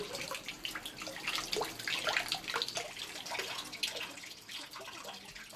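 Water trickles and splashes steadily at a Shinto shrine purification fountain in the Kumano mountains, a continuous close pouring and dripping with no voices.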